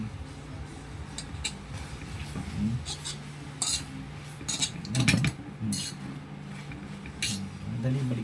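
Metal cutlery clinks lightly against a plate several times, scattered through ongoing speech with a low steady hum underneath.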